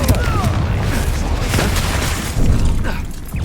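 A Confringo spell detonates in a Hogwarts video game, a booming blast with crackling debris that swells again near the end, set over dense game sound and a hint of voice.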